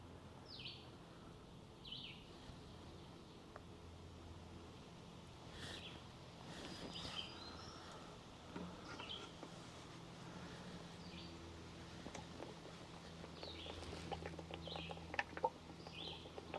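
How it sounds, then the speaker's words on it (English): Faint birdsong drifts from somewhere among rocks, scattered chirps and calls from more than one kind of bird over quiet ambient rustle, distant and soft throughout. "You can let me know what kind of bird that is in the background singing."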